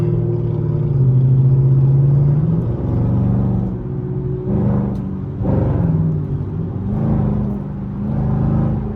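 A Camaro's engine on the road alongside a Camaro SS during a late-night drive, a loud, steady low rumble and whir with revs rising and falling throughout.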